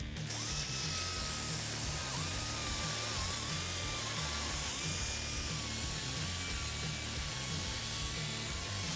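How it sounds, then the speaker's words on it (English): A chop saw cutting a Ford F150 exhaust pipe: a continuous high metallic grinding whine with wavering pitch, loud and steady for the full stretch, no voices. "Let's go ahead and we'll head over to our chop saw real quick."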